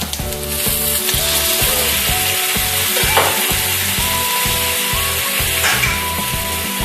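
Egg fries in a hot pan of oil for a Thai omelette, a dense, constant sizzle running loud throughout, with rhythmic music playing underneath.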